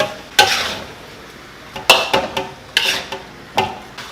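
Gochujang spicy wings tossed in a big wok: loud, separate bursts of scraping and clattering as the pan is shaken, about five or six strokes with pauses between, over a faint sizzle.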